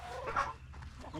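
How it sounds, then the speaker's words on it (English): A chicken on a small Tennessee homestead gives a short, close cluck, heard alone over faint outdoor background. "Come along, chicken."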